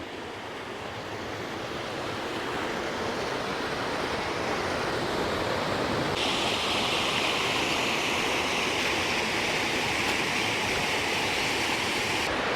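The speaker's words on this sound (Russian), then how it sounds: "Мы наконец-то дошли до реки." A river in a forested gorge near Sochi rushes steadily as a broad, constant roar of flowing water, close and loud throughout with no voices, brightening and growing stronger in the second half as the hiker draws nearer.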